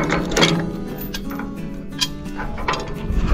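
A T-post puller worked on a metal fence post with a chain gives off close mechanical clanks, ratcheting clicks and metallic rattles in an uneven rhythm.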